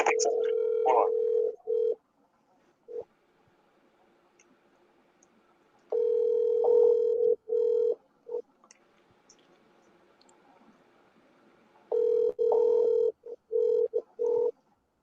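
Telephone ringback tone heard while a call is placed to a radio station listener, repeating bursts of steady tone separated by pauses, with brief talk between rings.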